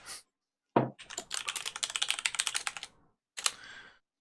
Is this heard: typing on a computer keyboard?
yes